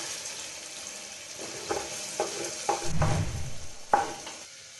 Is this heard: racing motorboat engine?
no